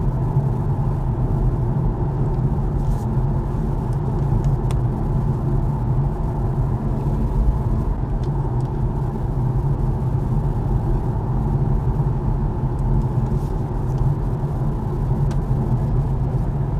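A BMW iX2 electric car on the highway fills the cabin with a steady, loud low rumble of road and tyre noise and a soft wind hiss, unbroken throughout, with no talk.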